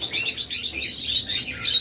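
Pairs of pet birds kept for sale chirp and tweet in quick, bright bursts that overlap into a steady, close chatter at moderate volume, with no voices.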